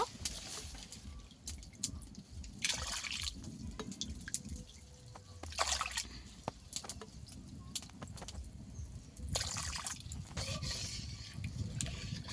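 Water poured from a bowl into a heated rice flour mixture in a pot, several separate splashing pours with dripping and trickling in between, close by with no talk.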